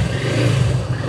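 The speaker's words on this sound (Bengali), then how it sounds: "বাইক স্টার্ট দেই" A motorcycle engine starts with a brief, close, low rumbling burst that holds steady for about a second.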